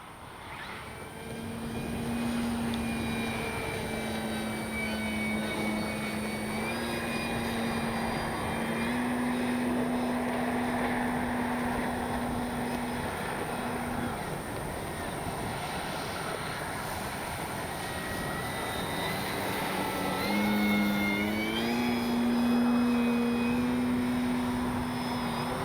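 An FMS 1400mm Pitts V2 RC biplane flies continuously, its electric motor whining steadily with small pitch shifts as it maneuvers, loud and close throughout with no talk.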